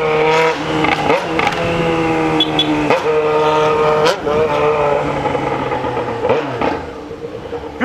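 A Yamaha XJ6 motorcycle with a straight exhaust, revved close by in several quick bursts, each engine note climbing sharply and then easing back to a steady loud idle.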